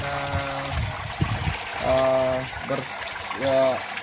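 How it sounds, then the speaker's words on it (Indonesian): Filtered water trickles steadily through aquaponic pots in a system built from recycled materials, a continuous soft flow heard under a voice. "air yang sudah tersaring bersih itu akan mengalir di pot-pot aquaponik"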